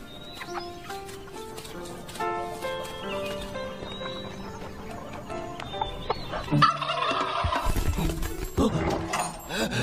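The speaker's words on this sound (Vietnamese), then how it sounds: "Mau giúp ta bắt đàn gà này đi" A flock of loose chickens squawks and clucks in a Chinese martial-arts drama, a busy, rising flurry of fowl cries layered over music that gets louder toward the end.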